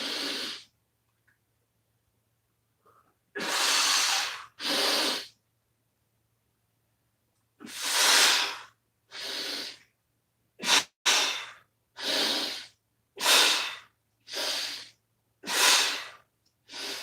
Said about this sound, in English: Then we're going to blow out on the way down.